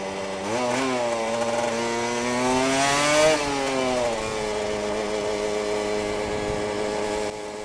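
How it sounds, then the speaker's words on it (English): A Yamaha R1 motorcycle engine runs loud and close behind, a rising then falling high-pitched rev that settles into a steady strained drone, heard alone without talk. "There's an R1 right behind me."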